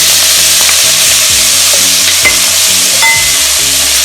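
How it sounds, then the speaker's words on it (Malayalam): Crushed ginger, garlic and curry leaves with a pinch of salt sauté in hot oil over a medium flame, giving a loud, close, steady sizzle broken by the scrape and clack of stirring. "ഒരു അര ടീസ്പൂൺ ഉപ്പ് ഇട്ട് കൊടുത്തിട്ട് മീഡിയം ഫ്ലെയിമിൽ വെച്ചിട്ട് നന്നായിട്ട് വഴറ്റിയെടുക്കും."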